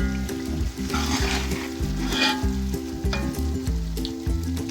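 Masala for potato dum biryani sizzles and fries steadily in a pot, a continuous loud crackle with repeating stirring scrapes and no talk.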